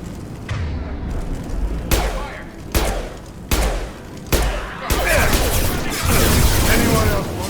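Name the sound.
gunfire from Blue Suns and Vorcha in Mass Effect video game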